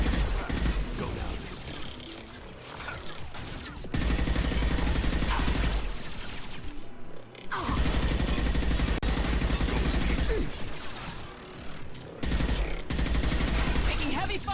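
Sustained bursts of automatic weapon fire from a Mass Effect 2 firefight, loud and dense, with brief pauses between volleys.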